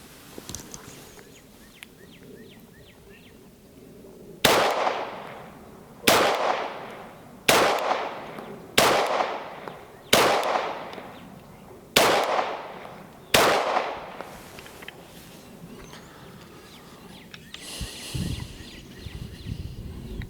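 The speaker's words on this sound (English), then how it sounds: "let's go ahead and take our final shots" Seven loud, evenly spaced gunshots from a SAR-9 pistol fired outdoors, each a sharp crack with a ringing decay, spaced roughly one to two seconds apart, with birds and insects faintly audible between shots.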